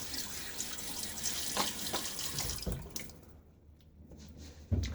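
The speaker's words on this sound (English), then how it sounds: "water on my face" Water splashed onto the face from a running sink before a wet shave, a close, continuous patter and trickle with a few sharper splashes and a brief lull near the end.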